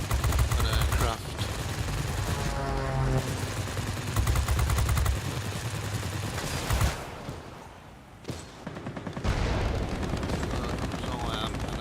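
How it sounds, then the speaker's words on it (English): Aircraft machine guns firing in the World of Warplanes flight combat game, rapid sustained rattling bursts over a droning engine roar, with a brief lull before firing resumes, accompanied by someone talking. "Never pass up the chance of shooting down an aircraft."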